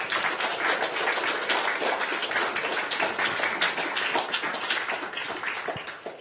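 Dense, steady applause from an audience at a live event on searching for missing persons, many hands clapping continuously at moderate volume for several seconds.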